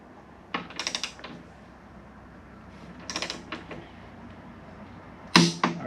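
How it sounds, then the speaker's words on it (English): A torque wrench on a suspension bolt set to 60 pounds gives a few short ratcheting bursts and sharp clicks, spaced apart and close, over quiet background. "the top one I can get the torque wrench on easy"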